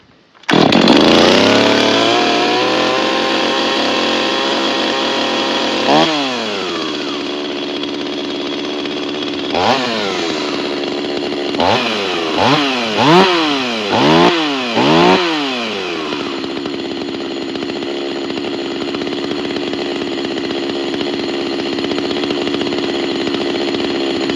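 A Neotec NS-846 chainsaw, a Stihl MS-250 clone, starts with a loud close rev and settles into a high idle, broken by a series of sharp throttle blips that rise and fall before it steadies again.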